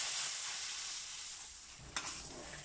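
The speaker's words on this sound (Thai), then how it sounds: "จากนั้นก็ผัดหัวกะทิ" Coconut cream sizzles and bubbles in a hot pan while being stir-fried for green curry, a steady close hiss with one brief clatter of utensil against pan near the end.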